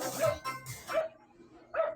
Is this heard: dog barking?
yes